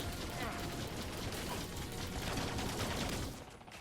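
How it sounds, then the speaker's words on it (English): Gunfire in a video game firefight, a dense continuous crackle of rapid shots filling the whole moment at steady loudness with no pauses, easing slightly at the very end. "There's a firefight."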